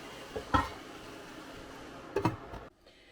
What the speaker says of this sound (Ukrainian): вимикаю плиту і накриваю кришкою